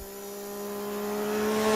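A motorcycle engine from the Henry Stickmin game drones with a steady tonal hum that slowly swells louder, rising as if accelerating, with no talking.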